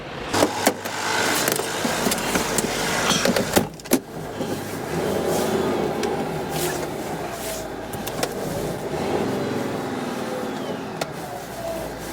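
A truck engine hums steadily at close range while pulling forward from a trailer during a tractor-trailer uncoupling exercise, with scattered clicks and thumps, the motor noise continuing throughout without fading.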